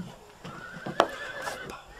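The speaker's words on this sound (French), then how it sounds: "Les chevaux, ils sont très affolés." Panicked horses neigh in a short, sharp whinny that rises over a background of hoof clops and murmured voices, fairly close and moderately loud.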